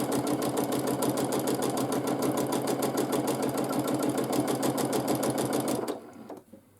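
A sewing machine stitches free-motion meander quilting at a fast, steady rhythm of needle strokes, loud and close. The motor stops abruptly near the end, leaving a few faint clicks.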